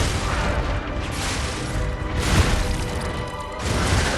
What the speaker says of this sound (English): It's not like an explosion, it's just like a big AoE burst.